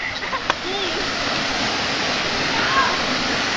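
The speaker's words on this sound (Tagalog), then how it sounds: "Ito po kami ngayon sa Pungkan Falls" Steady roar of rushing water at Pungkan Falls, a broad continuous wash with splashing, with faint voices of people bathing nearby.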